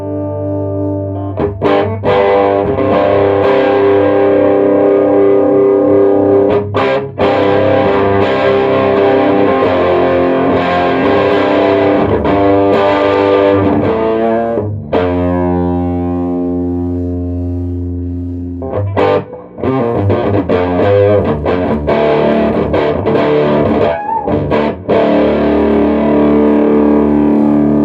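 Electric guitar played through a Marley amp with a dual-tank stereo reverb at higher gain, ringing out loud, distorted sustained chords with long reverb tails and brief pauses between phrases, without speech.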